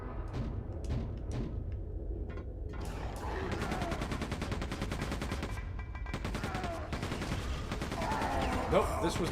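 Rapid automatic fire from a machine gun in Quake II, sustained bursts under game sound effects and background music, loud throughout with a voice talking over parts of it.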